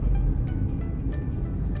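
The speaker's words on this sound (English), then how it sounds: "In this video you can hear only engine sound, like roar sound of engine" A car's engine rumbles low and steady during driving, a continuous deep drone with faint road noise and no talking.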